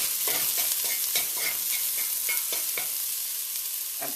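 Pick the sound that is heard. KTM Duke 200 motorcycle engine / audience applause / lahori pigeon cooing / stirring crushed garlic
stirring crushed garlic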